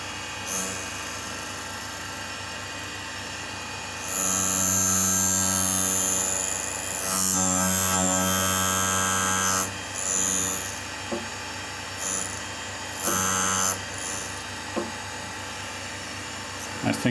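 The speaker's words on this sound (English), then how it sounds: "I raised the grinding wheel a little bit" Tool grinding machine running a grinding wheel against a radius groove insert: a steady motor hum, with louder, high whining bursts of grinding contact that come and go in several passes, no talking over it.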